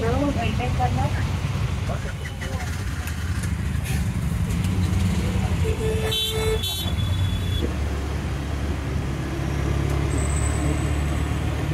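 Busy road traffic at a market area in Bhubaneswar rumbles steadily, with car horns tooting briefly near the middle and later, under people talking nearby.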